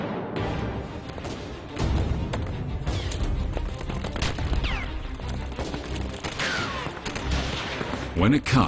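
Reenacted gunfire barrage in a historical Chinese assassination scene, dense cracking shots and booms rolling continuously, with a narrator's voice running over the volleys.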